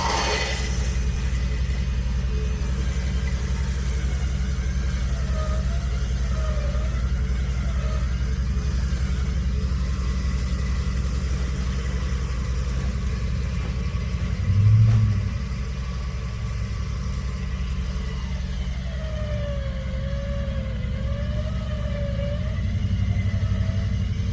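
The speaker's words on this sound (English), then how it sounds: "He's just in reverse, not giving any throttle." A vehicle idles in reverse with no throttle applied, out in frozen winter woods; a steady low engine rumble runs throughout with a brief louder bump midway, and nobody speaks.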